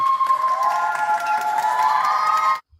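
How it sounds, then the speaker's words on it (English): A crowd cheers and applauds during an online watch-party talk show. The burst is steady and fairly loud for about two and a half seconds, with sustained whooping tones, then cuts off abruptly. "Getting some applause"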